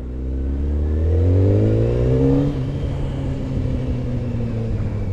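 A motorcycle engine revs up loudly and close, its pitch climbing steadily as it accelerates and pulls away, then settles into a steady lower rumble.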